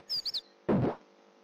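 Bird in the game Breath of Fire IV, three quick high chirps in a row, followed by a short burst of another sound, all close and clear with no talk.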